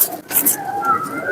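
Soft pigeon cooing close by from rooftop show pigeons, a few low warbling calls running through a short stretch with faint background noise.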